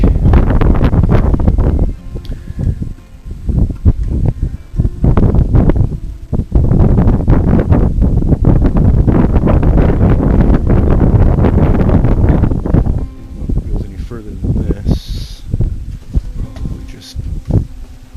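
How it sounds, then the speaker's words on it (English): Strong wind gusts roar up through a rock crack on a desert mesa, a loud, steady rumble buffeting the microphone for the whole stretch with only brief dips. "lot of wind coming up through this crack"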